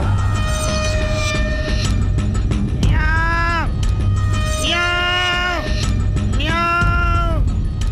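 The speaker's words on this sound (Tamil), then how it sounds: "ஏதோ பூனை சத்தம் கேக்குது?" A cat meows three times in a drawn-out, rising-then-falling way, each call about a second long and evenly spaced. The meows sit clearly over a steady background hum in a scene from a Tamil television comedy serial.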